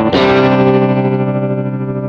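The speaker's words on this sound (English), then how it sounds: "And this is with the Wiggler." Stratocaster on the bridge pickup played through an Electro-Harmonix Wiggler tremolo pedal, one struck chord ringing out loud and sustained, its volume gently pulsing as it decays over two seconds.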